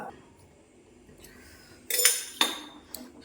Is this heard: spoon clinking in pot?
yes